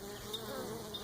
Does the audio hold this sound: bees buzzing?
yes